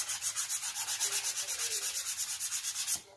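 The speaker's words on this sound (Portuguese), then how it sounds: "Começo de um lado e lixo até o outro." Sandpaper rubs back and forth across an MDF box coated with acrylic base in fast, regular strokes, about nine per second, close and crisp, then stops abruptly near the end.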